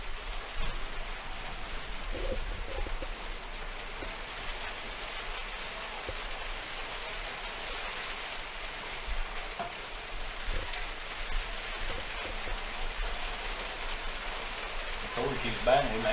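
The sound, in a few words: rain falling during a baseball game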